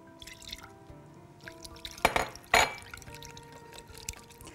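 Milk poured into egg yolks for custard, a few soft splashing pours and drips up close, with two louder bursts of liquid midway amid light kitchen handling.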